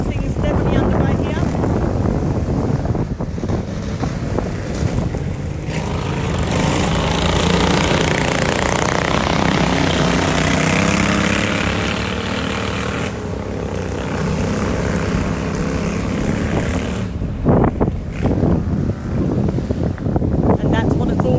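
Racing lawn mower engines roar steadily at a lawn mower racing club event on the Fraser Coast, a loud sustained drone that swells and fades as machines pass, with no speech over it.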